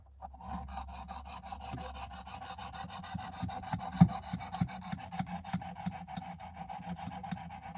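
A WW2 vintage M3 knife blade being sharpened on a Work Sharp Precision Adjust, a steady rasping scrape of strokes repeating along the steel, close and fairly quiet with no talking.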